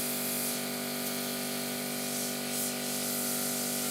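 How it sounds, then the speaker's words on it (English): A small diaphragm air pump pushes air with a steady, even hiss and a constant motor hum, running close and unchanging throughout. "there's a diaphragm in here and it's pushing the air through"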